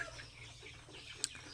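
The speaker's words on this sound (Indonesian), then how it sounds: "ayam aka umur 5 minggu ya. Alhamdulillah ini 200 ekor" Five-week-old free-range chickens cluck faintly, with soft scattered calls and one brief sharper peck-like sound over a low background hum.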